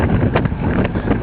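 Steady wind buffets a small Puddle Duck sailboat, a continuous rushing roar with gentle surges where a gust swells and the hull and water slosh beneath it.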